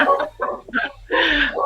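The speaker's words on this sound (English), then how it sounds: "Sorry about the dog." A dog barks indoors in a room during an online teaching session: four or five short, loud, close barks in quick succession, the last ones longer and more strained.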